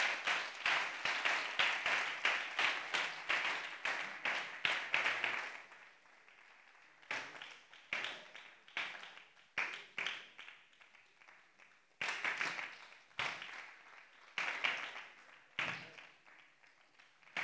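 A church congregation claps and cheers to welcome first-time visitors at an evangelical service, with bursts of rhythmic applause rising and fading in waves, loudest at the start and returning several times.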